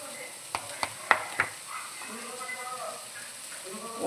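Turmeric and spices fry in a pan with a low, steady sizzle, punctuated early by a few sharp spatula taps and clinks, then settling into soft frying with faint background movement.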